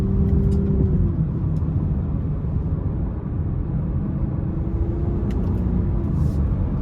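Cabin sound of a 2023 Nissan Rogue SL 1.5T on the move, a steady, loud low engine and road rumble with a faint tone that dips and later returns, no voices over it.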